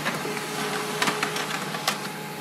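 An HP LaserJet Pro 3001dw laser printer prints a page, giving a steady mechanical whir close by with several quick clicks and clacks of paper feeding.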